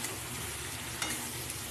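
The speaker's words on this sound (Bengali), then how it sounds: "আলুগুলোকে তুলে তুলে কষাতে হবে" Boiled potatoes fry in spices for Kashmiri aloo dum, giving a short, steady sizzle with a faint stirring scrape near the middle, quiet and close, with no voices.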